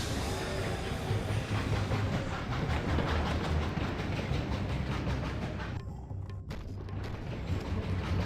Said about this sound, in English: now we can just hop back in the train